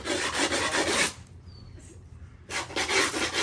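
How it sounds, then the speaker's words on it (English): Sandpaper rubs hard across a wooden skateboard deck in two loud close bursts of rasping strokes, separated by a brief quiet pause. "now that we're getting a good sand on the board"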